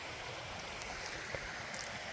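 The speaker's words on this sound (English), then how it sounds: "About to walk through the creek to get to the other side." Creek water flows in a steady, close, broadband rush at a remote water crossing near Kununurra, continuous with no talk.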